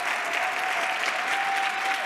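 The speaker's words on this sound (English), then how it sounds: "just stand up and take a round of applause" Conference attendees give a round of applause, a brief, dense and even wash of clapping from a large crowd, loud and sustained with a faint tone running underneath.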